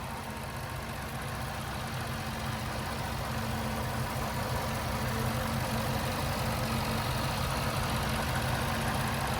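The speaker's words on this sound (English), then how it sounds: "So as you can tell, nice and smooth running engine, no odd noises or vibrations." The supercharged 5.0-litre V8 in a 2019 Range Rover Sport idles smoothly and evenly, recorded close up from the engine bay with a steady low rumble and no voices.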